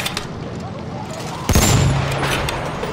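A Mark V tank fires its cannon at an enemy tank in Battlefield 1 on the Volga River map, a single loud boom with a ringing tail over background battle noise.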